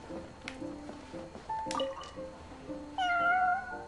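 A cat meowing in the video game Genshin Impact, a few short meows over quiet game ambience with faint drips. It ends on a longer, clearer meow, moderately loud and close.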